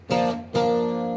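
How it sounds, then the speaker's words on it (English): Two clean electric guitar chords strummed without distortion, the second ringing out and sustaining to the end. "If I switch the overdrive off, it's going to sound like this."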